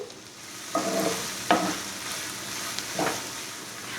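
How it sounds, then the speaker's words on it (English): Chopped onion sizzling in melted butter in a pan, a soft steady frying hiss with a few sharp stirring scrapes, close and moderate in level. "Now melt 1 tablespoon of butter. Add the chopped onion."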